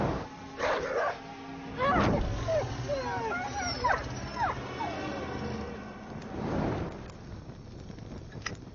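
A dog in a Hindi horror comedy film scene whimpers with a string of high, wavering whines and a few yips, fairly close against a quiet background.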